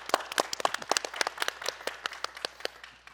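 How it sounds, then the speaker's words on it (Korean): Applause from a theatre audience at a youth drama troupe stage performance, a quick, fairly close burst of irregular hand claps rising and thinning over a few seconds, with no voices. "박수."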